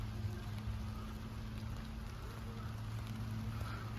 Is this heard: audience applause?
no